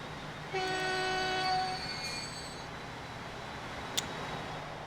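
A Shanghai fuel train in the rail-building game Transport Fever gives a long, fairly loud horn blast, then rumbles steadily past on the track. A brief click sounds near the end.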